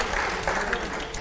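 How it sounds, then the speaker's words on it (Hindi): Studio audience at a televised Hindi interview breaks into steady, dense applause, loud and continuous throughout with no voices over it. "अगले सवाल से पहले जोरदार तालियां हो"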